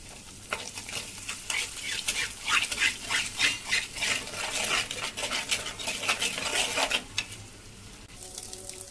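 Three beaten eggs stir-fried in a hot pan after onions, hissing and sizzling steadily while a utensil scrapes and stirs in quick rhythmic strokes, close and moderately loud, with no talking.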